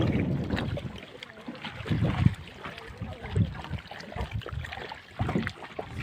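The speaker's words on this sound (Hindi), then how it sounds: "अब कश्ती पर सवार हो जाएंगे हम" A boat moves across Paksiri Lake near Sanghar, Sindh, with water lapping and splashing in uneven bursts against the hull, wind buffeting the microphone, and no voices.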